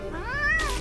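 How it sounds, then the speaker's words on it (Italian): A cartoon mutant cat made of ice cream gives a single short, rising-and-falling meow, close and clear, lasting under a second. "È la gattina mutante di Mickey fatta di gelato, amico."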